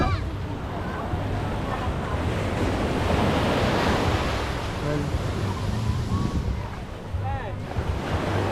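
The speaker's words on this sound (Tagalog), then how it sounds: "Sobrang lakas ng alon," Strong surf crashes steadily at Pundaquit beach in Zambales, a loud continuous wash of breaking waves with wind buffeting the microphone and faint voices mixed in.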